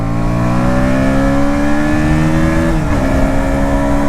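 A KTM Duke 160 motorcycle engine held at full throttle gives a loud, steady droning whine that climbs gradually, with a brief dip in pitch near the end as the revs shift.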